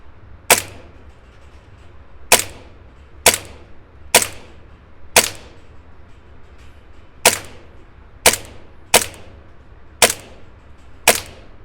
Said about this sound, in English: I'm gonna take 10 shots at the #1 target down there.